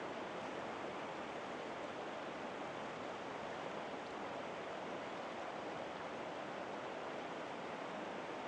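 The White River rushes and rages past rocks in a steady broadband roar of fast water, constant and fairly distant, with no voices over it.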